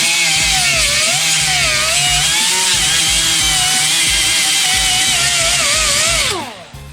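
A small grinder cutting into the floor panel of a 1963 Impala: a loud, steady, high whining drone with a chattering low rumble that holds for about six seconds, then winds down as the tool spins to a stop.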